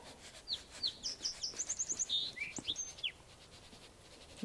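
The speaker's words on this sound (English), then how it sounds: "If you heard that bird, that was a song sparrow." A song sparrow sings outdoors in a garden on a breezy day: a bright, clear run of rapid repeated notes speeding into a trill and ending in a few varied chirps, fairly close over a soft wind hiss, with no talk.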